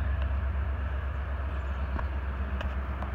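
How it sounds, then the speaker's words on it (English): A coal train rolls along the railway below an Appalachian Trail lookout, a steady low rumble with faint rhythmic clicks of wheels, heard from a distance with no talk. "You can see a train coming down below."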